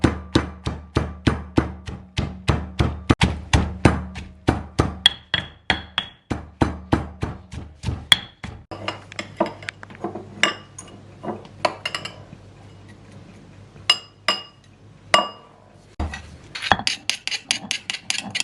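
Coriander root pounded in a mortar with a pestle, a steady run of sharp, close thuds that later turn irregular and sparser, with occasional quiet voices.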